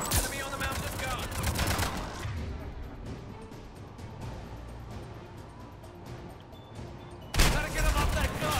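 Mass Effect 3 battle on Rannoch with loud bursts of rapid gunfire and explosions that start dense, thin out to scattered shots in the middle, then swell again near the end.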